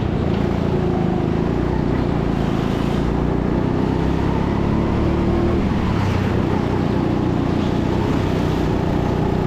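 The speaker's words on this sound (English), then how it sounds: "Kart 10 is driven past going up the ramp." At TeamSport Sheffield's indoor go-kart track, karts race up a ramp under a loud, unbroken engine drone heard close up throughout.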